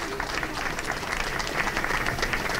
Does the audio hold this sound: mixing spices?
no